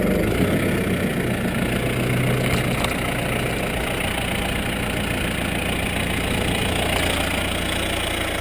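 A four-wheel-drive Farmall tractor engine idles steadily and loudly up close, a continuous low rumble with a slight knock and no speech over it.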